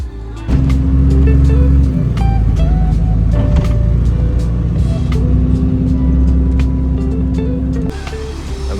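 Inside a city bus moving through Istanbul in winter, a loud, steady engine drone rumbles close by with a constant low hum and faint clicks and rattles, and no one talks over it.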